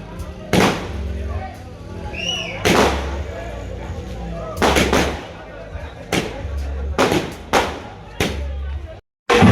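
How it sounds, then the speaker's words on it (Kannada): Several loud firecracker bangs go off at irregular intervals, sharp and close, with crowd noise and chatter in between, at a Hanuman Jayanthi celebration in Shanivarasanthe, Kodagu. "ಇದು ದೊಡ್ಡ ಪಟಾಕಿ ಇರಬೇಕು."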